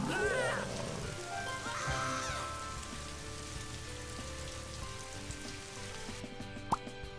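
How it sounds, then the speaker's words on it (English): A rain cloud rains in the video game Scribblenauts Unlimited, a faint steady patter of drops with soft plops and a brief sharp tone near the end. "Rain cloud."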